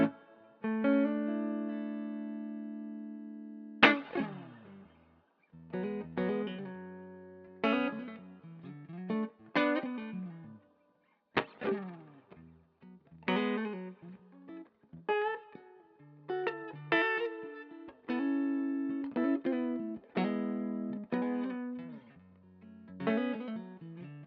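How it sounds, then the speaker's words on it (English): An electric guitar plays a clean tone through the neck pickup with the tone knob rolled down: warm, rounded single notes and chords, each plucked and left to ring and fade, alone and fairly close. "I'm going to say this is my clean tone"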